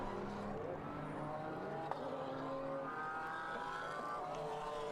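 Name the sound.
race cars on formation lap behind safety car at Suzuka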